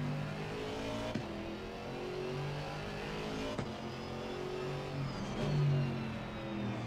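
Aston Martin Vantage GT4 race car engine in Assetto Corsa Competizione, a steady droning rev with gear shifts and a brief rise in pitch near the end, loud and continuous with no talking.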